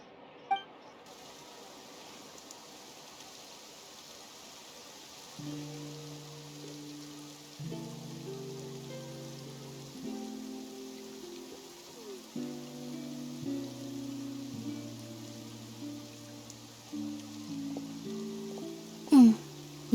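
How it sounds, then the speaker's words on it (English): Light rain falls in Fontaine in a video game, a soft steady hiss that runs throughout beneath a gentle melodic music line, with a brief bright chime near the end. "Looks like rain."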